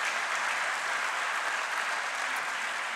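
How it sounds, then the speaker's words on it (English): Steady applause from a crowd, a continuous wash of clapping that holds evenly throughout, heard from a moderate distance. "Give them a round of applause that they can hear"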